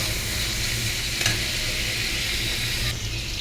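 Onions browning in a hot pan, a steady loud sizzle with a brief scrape of stirring, close and without speech.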